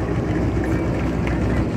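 A steady low droning engine hum from a Flying Bulls aircraft with a radial engine, continuous and fairly loud throughout with a rushing wind-like background and no clear voices.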